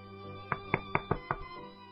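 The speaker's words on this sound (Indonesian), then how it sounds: "tiba-tiba terdengar suara ketukan" Five quick, sharp knocks on a bedroom door, evenly spaced and close by, rise above a faint steady background hum.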